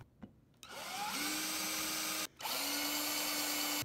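Cordless power drill driving screws into the wooden backing of a pallet Texas flag, two sustained whirring runs broken by a brief pause, close and fairly loud, with no talk.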